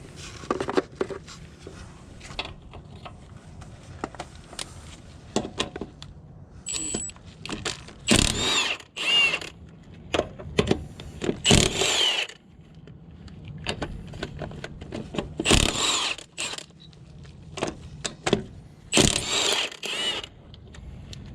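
A mechanic working tools to pull a tire off a car with failed brakes, with a series of loud bursts of what sounds like impact-wrench action and metallic clanks, separated by quieter pauses of shop noise.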